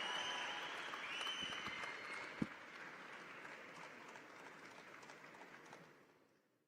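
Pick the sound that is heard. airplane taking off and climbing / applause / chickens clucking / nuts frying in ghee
applause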